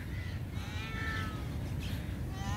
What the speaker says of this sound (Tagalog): Pusa to.